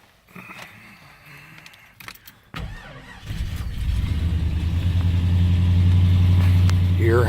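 A 1987 Jeep Grand Wagoneer, original and under restoration, is started: clicks and a brief crank, then the engine catches and settles into a steady, fairly loud idle.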